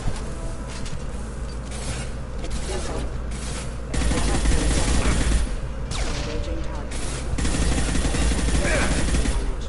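Rapid bursts of gunfire ring out continuously in a loud fusillade, getting heavier partway through, with a voice speaking faintly underneath.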